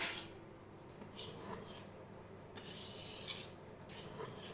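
Sponge cake batter being mixed by hand in a bowl, giving a faint, continuous rubbing and scraping with soft rhythmic strokes of the utensil against the bowl's sides, steady and quiet throughout.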